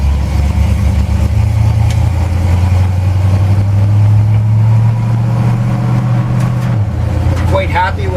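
A 1928 Dodge rat rod on the road, its engine droning loud and steady with a constant low hum inside the cabin throughout, and a brief voice near the end.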